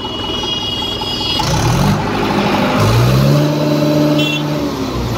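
A heavy diesel tractor engine rumbles close by, then revs up twice, the pitch rising and holding before settling back to a steady chug.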